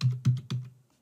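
Three quick, close keystroke clacks on a computer keyboard while entering details into a web form, evenly spaced and fading into quiet, with no voices.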